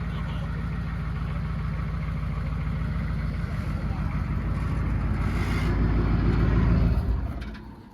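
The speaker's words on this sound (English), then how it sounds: "you hear the turbos" Turbocharged square body truck engine running steadily with a low rumble and turbo whine, swelling louder toward the end before dropping off, heard from inside the cab.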